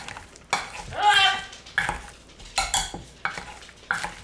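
Deviled egg filling being stirred with mayonnaise and sour cream in a bowl, with wet squelching strokes and utensil scrapes coming in irregular bursts, close and fairly loud, with no talk.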